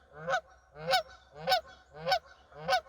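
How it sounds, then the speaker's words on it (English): A goose honks five times in a steady rhythm at Thurston Bay, British Columbia, each call a loud, nasal blare about half a second apart, close by with a faint low hum underneath. "there's a goose."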